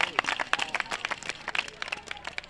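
Audience at a school cultural day clapping for supervisors and teachers, a brief burst of close, uneven handclaps with some crowd murmur.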